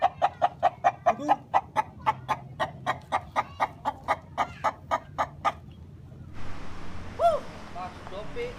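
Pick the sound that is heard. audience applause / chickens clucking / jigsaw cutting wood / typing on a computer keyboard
chickens clucking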